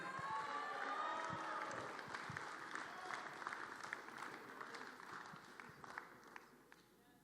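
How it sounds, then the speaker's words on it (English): Crowd applause and cheering for the 2023 FIBA 3x3 New Zealand basketball all-stars in an arena, a loud sustained roar of clapping that gradually thins out over several seconds, with an announcer's voice under it. "Give them a big round of applause."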